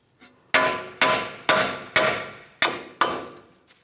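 Six sharp hammer strikes on a tie rod end of a Ford Flex ring out in a steady rhythm, each with a short decaying clang, close and alone.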